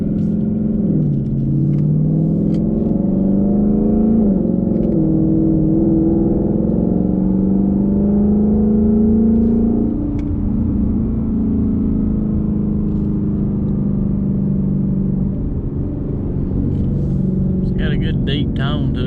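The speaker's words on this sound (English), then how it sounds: "here we go for some exhaust sounds." A 2018 Ford Mustang GT with an AWE Touring exhaust rumbles in a steady, deep drone heard from inside the car. The engine tone rises and falls slightly as it accelerates and cruises, loud and continuous throughout.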